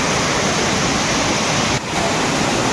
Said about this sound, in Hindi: झरणाटा